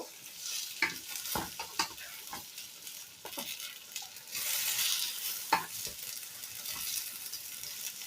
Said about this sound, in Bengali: এবার উল্টে পাল্টে আমি দুপাশটাই সুন্দর করে ভেজে নেব।